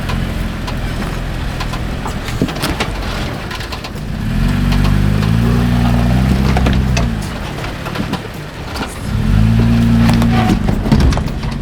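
An overland truck with a rooftop tent crawls a gnarly off-road trail, its engine idling and then revving in steady, loud surges with low harmonic drone, interspersed with quieter stretches and scraping knocks.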